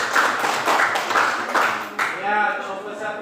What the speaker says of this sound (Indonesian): berikan aplaus kepada kelompok 1